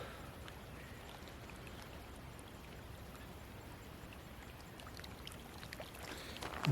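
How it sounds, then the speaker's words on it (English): Hands being rinsed in water outdoors by a lake with a canoe nearby, heard as a soft, steady trickle and splash that runs faintly and evenly, with a slightly louder pour right at the end. "Rinse my hands off here."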